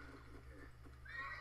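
Horse whinny from the video game Assassin's Creed Brotherhood, a brief mid-loud neigh rising near the end over steady low game ambience, with no talk.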